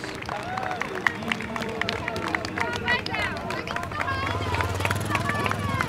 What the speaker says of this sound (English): people cheering.